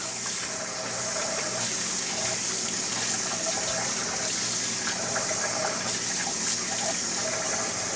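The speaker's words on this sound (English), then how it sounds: "Gently rinse the rice." Water runs and swirls steadily as rice is gently rinsed in a container for Persian saffron rice, a close, continuous gushing sound with no voices.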